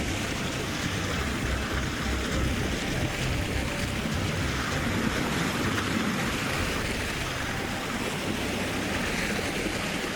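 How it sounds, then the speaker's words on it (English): Water pours and streams off the smooth terraced layers of an ancient submerged structure, a continuous rushing wash with steady intensity and no pauses or voices. "Water pours off its smooth terraced layers"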